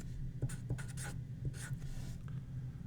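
Chemical equation being written out by hand for a water decomposition example, giving a series of short scratchy pen or marker strokes in irregular bursts over a steady low hum.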